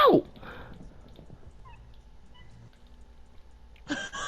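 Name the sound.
cats meowing in the video game Minecraft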